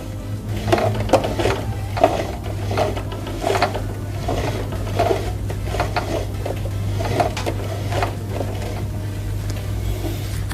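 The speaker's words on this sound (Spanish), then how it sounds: "Acá vamos a dar las primeras puntadas solo girando el volante con la mano" A Janome 1000A sewing machine turned slowly by its handwheel, making a series of separate mechanical clicks and clacks about once a second, close by over a low steady hum.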